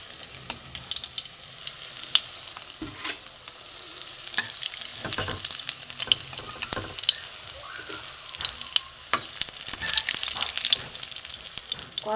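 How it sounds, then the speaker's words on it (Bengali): Dhoka lentil cakes frying in hot oil in a pan, a continuous sizzle broken by scraping and clinks as the cakes are turned, with no talking. "ধোকা আস্তে আস্তে এপিট ওপিট করে ভেজে নিচ্ছি।"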